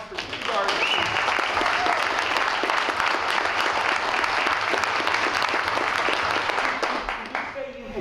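A crowd applauds to honor a veteran of 34 years in the Guard, the clapping swelling in quickly, holding loud and steady for several seconds, then fading toward the end.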